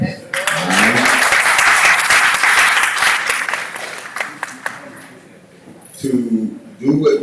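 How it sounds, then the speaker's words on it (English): At an online global graduation, an audience bursts into warm applause that swells, holds, then fades away, and a voice resumes talking as the clapping dies down. "Let's give yourselves a round of applause first"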